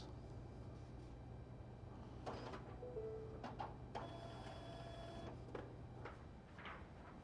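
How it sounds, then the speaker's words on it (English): An election ballot tabulator taking in a ballot during a public accuracy test, a faint mechanical whir and feed with a steady low motor hum and a few soft clicks, heard at some distance with no voices. "When it accepts the ballot, it drops it into the ballot box"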